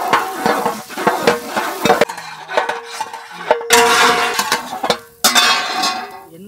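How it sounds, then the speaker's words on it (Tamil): Sesame oil sizzles and crackles loudly around chopped onions and green chillies while a utensil scrapes and clinks against a pan in bursts of stirring, with brief quieter pauses. "எண்ணெயில வெங்காயத்தை கொடுத்தா"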